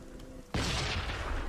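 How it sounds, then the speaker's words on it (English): An explosion in the video game Arma 3, a sudden loud blast that cuts off a low hum and then trails into a long rumbling roar, with no voices. "good old Armor 3 explosions"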